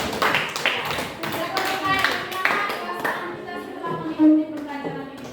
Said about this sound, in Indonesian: Mari kita berikan tepuk tangan untuk Aileen